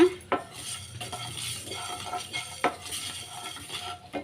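Spices lightly dry-roasted and stirred in a pan for a chayote buttermilk curry; a spatula scrapes and clinks against the metal in a few sharp knocks over a soft, faint crackle, with no talking.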